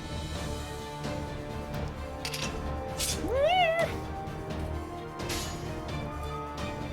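A cat meows once mid-clip with a rising, wavering cry, heard over steady background game music and sound effects.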